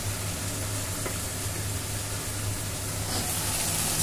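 Fish curry masala fries in oil in a pan, the oil separating from the spices. A soft, continuous sizzle runs throughout at low level with a faint steady hum beneath and no talking.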